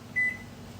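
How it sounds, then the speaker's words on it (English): A kitchen timer set for two minutes while fresh fettuccine cooks gives a single short electronic beep, fairly quiet over a steady low hum of kitchen appliances. "Start the timer, 2 minutes."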